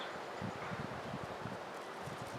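Wind gusts against an outdoor microphone, a steady broadband rush with soft rustling of leaves and low buffeting thumps, moderately loud and continuous with no voices.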